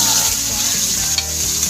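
Ground pork (giniling) sautéing in a pan with oil, a loud steady sizzle close by with a brief utensil scrape partway through and no voices.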